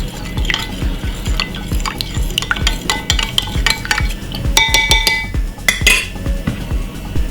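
A metal utensil stirs homemade juice of water and lemon in a pot, giving a steady rhythm of loud scrapes against the pot with bright clinks and knocks scattered throughout, close up and without talk.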